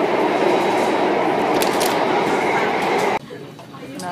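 A metro train passes through Harbour Front station in Singapore, a steady loud rolling rumble with faint clatter that cuts off abruptly near the end, leaving quieter station ambience.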